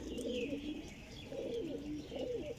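Teddy pigeons cooing in repeated soft, throaty rolling phrases, close and steady, with faint higher chirps above and no voices.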